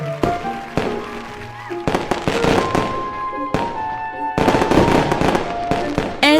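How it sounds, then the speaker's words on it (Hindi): Firecrackers and rockets go off at a festive celebration, with a rapid string of loud, sharp bangs and pops, some whistling, overlapping and continuous, close by, with a voice faintly underneath. "पटाखे और हवाइयां छूटने लगी।"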